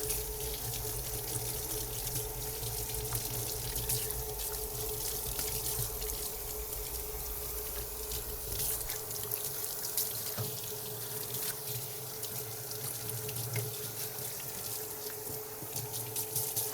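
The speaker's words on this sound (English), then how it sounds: "Rinse it well." A dog's paws are rinsed under a running tap after a walk. Water splashes and trickles continuously into the sink at a moderate, even level throughout.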